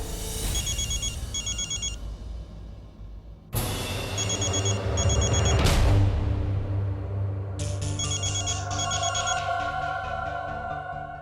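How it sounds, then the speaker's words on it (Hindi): A telephone rings in repeated bursts of bright electronic trills, two short pulses at a time, an incoming call from Pragya in a home; the ringing restarts louder over a low steady background tone, with no talk. "प्रज्ञा का फोन।"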